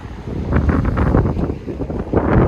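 Wind buffets a microphone aboard a sailboat on the Baltic Sea near Klaipėda, a loud, low, gusty rumble rising and falling steadily with no voices.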